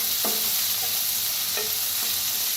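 Chopped onions and onion greens frying in oil with asafoetida, a steady hissing sizzle with a few soft spatula scrapes and taps, close and unaccompanied by speech.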